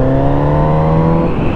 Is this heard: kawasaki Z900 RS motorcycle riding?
yes